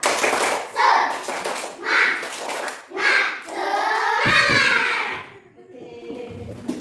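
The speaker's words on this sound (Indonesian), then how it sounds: "Tepuk semangat." A second-grade elementary classroom of children does a rhythmic spirit clap, loud bursts of clapping and chanting voices repeating in a steady beat about once a second before fading into quieter chatter.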